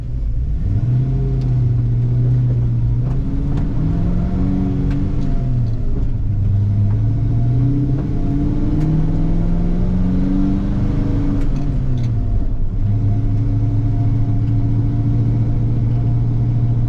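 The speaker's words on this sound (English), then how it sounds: "It's kind of a nice little steep grade, so you can kind of hear the motor." A Ford Bronco with a Godzilla engine climbs a steep grade in third gear at about 1600 RPM, giving a steady, loud low engine drone whose pitch rises and falls slightly under load, with no talking.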